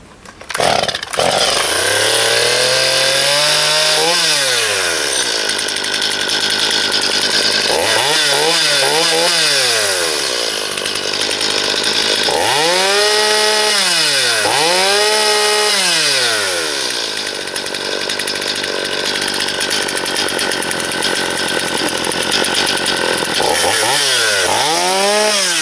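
A Stihl MS210 chainsaw with a newly replaced carburetor runs loud and close, revving up and down in repeated bursts with a steady idle in between, with no talk over it.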